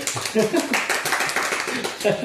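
An audience claps in a quick, dense patter throughout at an anniversary music event, with a voice talking over the applause.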